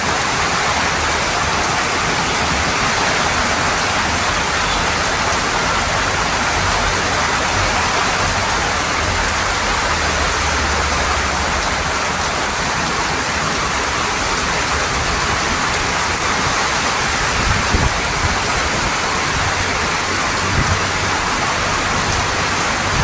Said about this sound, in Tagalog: Lakas ng ulan na ito.